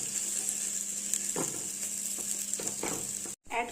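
Gobindobhog rice frying with cashews and raisins in a pan, a steady sizzle with several scraping stirs of a spatula, a short gap near the end.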